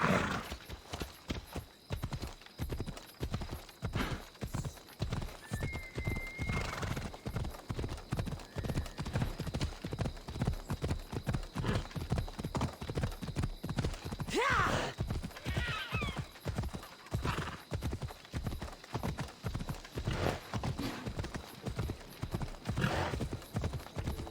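A horse trots steadily with a continuous, even clip-clop of hooves across the whole stretch, close and clear, with a brief whinny partway through and no talking.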